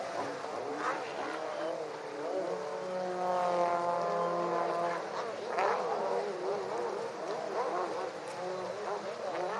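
The number 88 Kawasaki racing powerboat roars past at a powerboat Grand Prix off St. Pete. The engine note swells and sweeps down in pitch as it passes, then fades into a distant drone.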